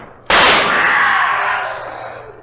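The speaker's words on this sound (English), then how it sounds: "Quick, fire your pistol." A pistol shot in a radio drama set in a moonlit cemetery: one sudden loud bang with a long, bright, noisy tail that slowly decays over about two seconds.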